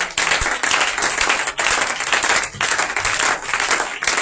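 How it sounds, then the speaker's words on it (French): A church congregation applauds in a continuous wash of clapping that surges and dips in waves, close and fairly loud, with no speech standing out. "Acclame le Seigneur Jésus-Christ"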